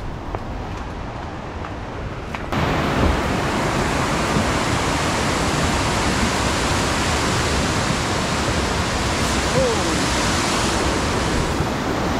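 Bomburu Ella waterfall near Nuwara Eliya pours in a continuous roaring rush, quieter at first, then swelling to a loud, steady wash of water that holds to the end.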